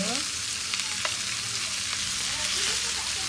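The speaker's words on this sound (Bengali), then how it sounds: "মাংসগুলো সুন্দরভাবে নেড়ে নেব। উঠে নেব, একদম কড়া কড়া একদম ভাজবো।" Pieces of chicken meat fry crisp in hot oil in a pan, giving a steady close sizzle and crackle with occasional stirring scrapes.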